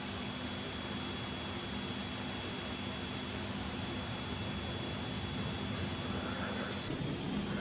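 A Cessna Citation Mustang business jet taxis in a flight simulator game, a steady idling jet engine whine with a constant high tone over a broad rumbling hum, unchanging throughout with no talking.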